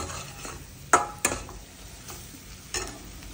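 Masala spice paste sizzling and being stirred in oil in a pan while making egg bhurji, a steady low fry with a few sharp scrape and clink sounds of the spoon against the pan.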